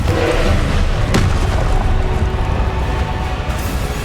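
A Confringo fire spell bursts in Hogwarts Legacy with a loud, booming blast. A sharp crack cuts through partway, and a dense, rumbling roar carries on throughout.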